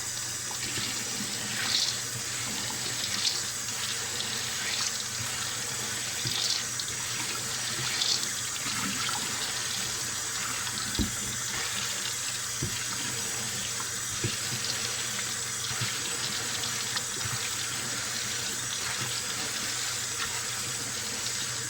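Beans being rinsed in a tilted bowl under a running kitchen tap, a steady close splash and gush of water that continues throughout with small surges and clinks.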